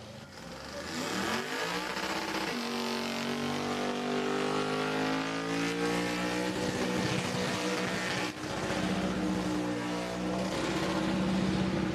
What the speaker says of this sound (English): you can hear that by the fact that he's on the limiter